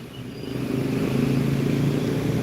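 A Jet Bus 3 Sultan Class coach passes with a steady, loud low engine rumble that swells slightly and holds, with no talk over it.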